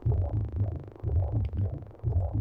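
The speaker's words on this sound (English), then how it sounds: "Sounds almost like a heartbeat of something that isn't human." A heartbeat-like sample in the Fear & Hunger 2: Termina soundtrack piece "Breath Of The Moon" pulses as deep, muffled thumps in a steady rhythm about every half second, throbbing and close.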